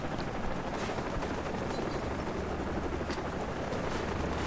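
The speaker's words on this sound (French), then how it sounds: "donc là ensuite il y a les hélicos, et donc là c'est quand même très action" Helicopters in the video game Far Cry 3 fill the scene with a continuous, loud, broadband rotor roar and rumble, steady throughout with no speech.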